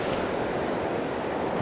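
Sea waves wash onto a beach at Barangay Bongbong in Pantukan, Davao de Oro, during the southwest monsoon, a steady loud surf roar mixed with wind noise and no talk.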